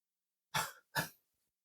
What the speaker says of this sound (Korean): 기침하고 난리 났네요